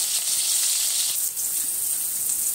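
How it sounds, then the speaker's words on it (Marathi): Chopped onion sizzles in hot oil in a pan, a steady bright frying hiss heard up close with no talk over it. "तर आपण याच्यामध्ये तेलामध्ये कांदा टाकलेला आहे। आता हे कांदा आपण भाजून घेऊया मस्त छान असा।"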